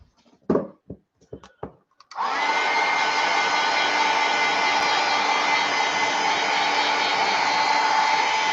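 A few light taps and clicks come before a hair dryer switches on and runs with a loud, steady whoosh, drying acrylic paint on a mixed media art piece.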